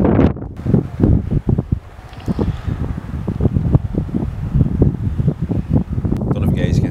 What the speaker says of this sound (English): Don't know if you guys can hear me or not, it's quite windy